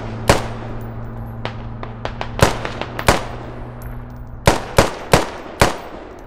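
Machine gun fire in the military shooter game Squad: sharp, loud bursts and single cracks at irregular intervals, each decaying quickly over a steady low background hum.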